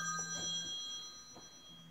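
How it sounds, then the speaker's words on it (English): An alarm on a mobile phone chimes with steady high electronic tones in short repeating pulses, fairly faint against a quiet room. "that's my alarm."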